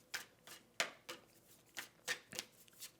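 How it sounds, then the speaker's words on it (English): Cardboard board game tiles are shuffled by hand on a tabletop, producing a series of short, soft scraping and clacking sounds in an uneven rhythm, close and quiet with no talking. "So let me shuffle up depth 2, since we haven't had one of those yet."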